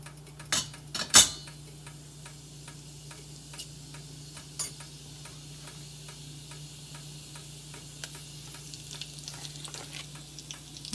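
Cumin and fenugreek seeds crackle in hot ghee with a quiet steady sizzle, broken by sharp irregular pops and ticks, a few louder snaps near the start.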